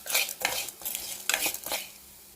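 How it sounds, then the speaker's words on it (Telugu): Cumin seeds, fenugreek and a pinch of turmeric are dry-roasted in a pan and stirred with a spoon, producing a few quick scraping and rattling strokes over a faint sizzle, close and brief. "1 స్పూన్ జీలకర్ర, పావు స్పూన్ మెంతులు, చిటికెడు పసుపు, ఇవి కూడా 1 నిమిషం బాగా రోస్ట్ చేసుకోవాలి."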